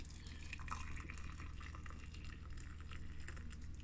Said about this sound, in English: And I'm going to pour a cup of hot water over it.